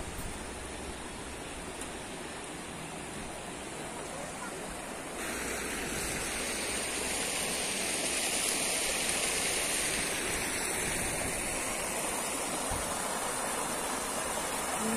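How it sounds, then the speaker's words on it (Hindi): River flowing beside a riverbank restaurant in Manali, a steady broadband rush of water that swells slightly louder midway, constant and unbroken. "यहाँ पर बिल्कुल नदी की आवाज आप सुन पा रहे होंगे।"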